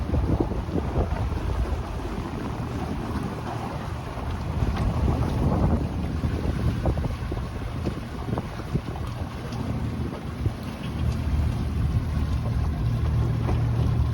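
A boat motoring in a slow turn around a marina in Sturgeon Bay, its engine a steady low rumble mixed with heavy wind buffeting the microphone and water noise, continuous throughout.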